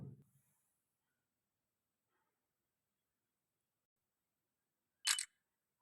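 A phone's camera in a government form-upload app fires a single short, crisp shutter-like click after a long stretch of near silence, with a faint low thump at the very start.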